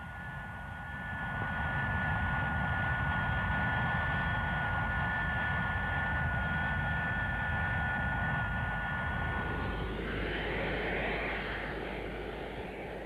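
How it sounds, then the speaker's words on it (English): Handley Page 115 research aircraft, a slender supersonic-shaped delta flown for low-speed handling research, passing as a steady broadband jet roar with faint tonal whine, swelling slightly near the end. "the research aircraft with the improbable shape, a supersonic shape for low-speed research"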